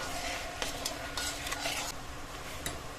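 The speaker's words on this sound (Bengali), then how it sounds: "নারকেলটা দিয়ে আরও লো ফ্লেমে 2-3 মিনিট ভেজে নেব" Grated coconut and semolina toasting in a pan over a low flame, a soft steady sizzle with repeated scraping stirs and faint clinks of a utensil against the pan, close and moderately quiet, with no talking.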